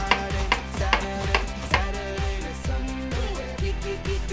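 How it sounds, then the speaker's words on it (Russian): A knife chops sausages steadily on a cutting board, about a dozen even strokes in quick rhythm, close and clear with no talking. "Затем нарезаем сосисочки."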